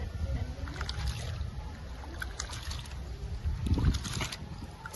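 Water is poured over soaked split moong dal in a bowl for washing, giving a steady close trickle and splashing that swells briefly near the end.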